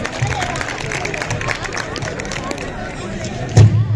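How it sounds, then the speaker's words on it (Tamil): Audience members clap for a winner at a Tamil New Year and Pongal festival prize giving, a close, busy patter of hand claps mixed with crowd murmur, ending with a sharp louder knock. "கைத்தட்டி வாழ்த்துங்கள்"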